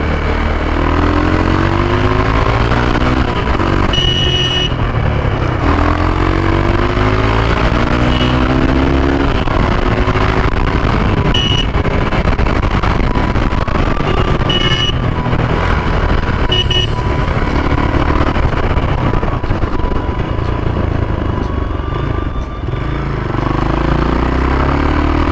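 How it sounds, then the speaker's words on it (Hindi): Hero Xpulse 200 motorcycle engine and exhaust riding through city traffic, a steady loud drone with rising and falling revs and some rough throttle blips, continuous throughout with no talking. "बट इसका यार एग्जॉस्ट भी बड़ा सही है,"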